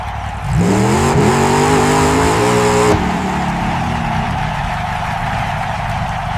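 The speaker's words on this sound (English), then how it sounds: "Come on, little car, go faster." A red RC toy car races, its small motor whining up in pitch and holding a high, steady rev for about two and a half seconds before dropping to a softer, constant background hum.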